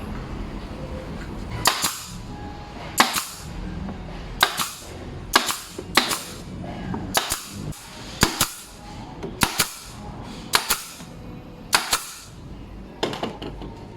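A nail gun fires into the wood of a display cabinet, giving about a dozen sharp, loud pneumatic bangs at uneven intervals, with a quiet workshop background between shots.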